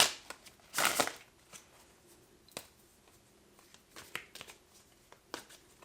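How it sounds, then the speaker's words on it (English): A tarot deck being shuffled, giving quiet, scattered card riffles and soft slaps with one denser burst near the start, close up and otherwise fairly sparse. "actually, hold on, let me just shuffle"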